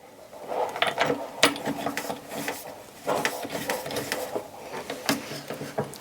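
Screws being driven by hand into a Sunny Health & Fitness magnetic rowing machine during assembly, giving a run of small ratcheting clicks and metallic taps that come in short bursts, close up, with no talking.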